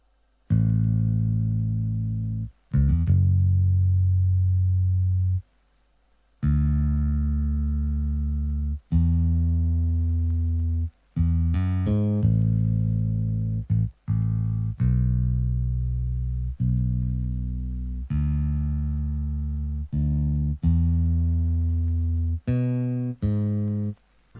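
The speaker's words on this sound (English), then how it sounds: "For the bass line, we used wonderful Ample Bass P Lite." An electric bass from the Ample Bass P Lite plugin plays a vintage soul line of plucked, sustained notes with short pauses between phrases, deep and round, alone without any talking.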